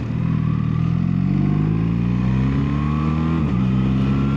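A BMW R1300RT motorcycle on the move, its engine droning steadily and climbing gently in pitch as it accelerates, with a brief gear-change dip near the end; loud, close and continuous, with no talking.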